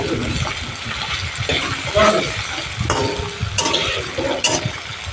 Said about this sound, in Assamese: এয়া মই অকণমান টাইম এনেকৈ লৰাই ভাজি থাকিম